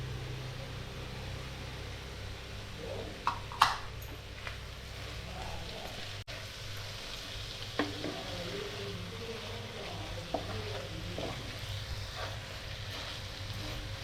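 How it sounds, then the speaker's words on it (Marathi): Oyster masala with asafoetida and salt sizzles in a pan while being mixed, a low steady frying hiss broken by a few sharp scrapes and clinks of a spoon against the pan. "मसाले चांगले मिक्स करायचे आहेत"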